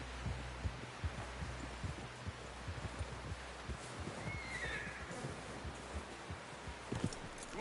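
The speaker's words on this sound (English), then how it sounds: "Someone help John down off this horse" A horse whinnies once in Red Dead Redemption 2 over a low rumbling background with soft thuds and rustling, fairly quiet and close.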